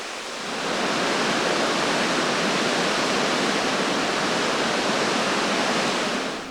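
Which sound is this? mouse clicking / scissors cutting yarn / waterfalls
waterfalls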